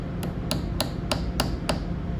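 Six sharp metal hammer taps on pliers clamped against a nut while assembling a diffraction kit, evenly spaced and fairly close, with no voice over them.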